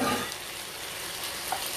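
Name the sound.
shrimp frying in a pan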